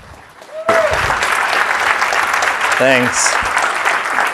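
Audience applause breaks out at a programming conference talk, a dense sustained clapping close and loud after a brief quiet start, with a short spoken word and a voice briefly heard over it.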